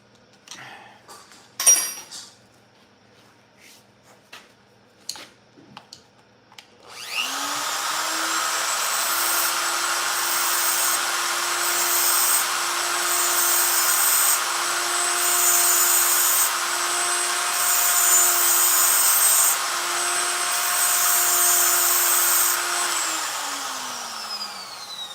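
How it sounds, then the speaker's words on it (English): After a few clicks and handling knocks, a tungsten electrode grinder switches on and runs alone with a steady high whine for about eighteen seconds, then spins down. "Get my tungsten grinder on here."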